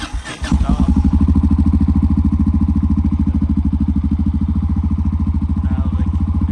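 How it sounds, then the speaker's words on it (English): Yamaha XT660R single-cylinder motorcycle, just repaired after cutting out, cranks briefly and catches, then settles into a loud, steady close-up idle thump that runs on without interruption. "Ignition on. Try to start. Start."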